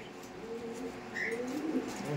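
Black checker racing pigeons cooing in a loft at a pigeon market, soft low throaty coos over faint background noise.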